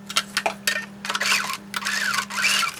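Sewing machine stitching a folded fabric strip at a 0.5 seam, a rapid mechanical whirr in short bursts separated by brief pauses, with a steady low hum underneath, close and clear without talk.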